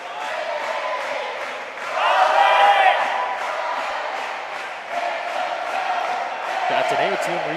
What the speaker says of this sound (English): As we could actually hear them cheering on for the second court game.